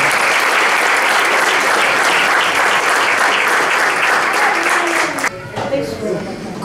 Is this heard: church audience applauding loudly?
yes